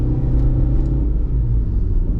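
A 1998 Renault Megane Scenic engine pulls hard uphill, a loud, steady low rumble with a rising whir inside the cabin, continuous throughout and with no talking.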